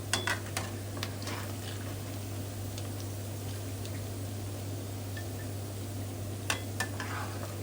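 Snakehead fish fries in hot oil with pork cracklings in a home kitchen, giving a soft continuous sizzle with scattered sharp spatters and pops, most noticeable at the start and near the end, over a low steady hum.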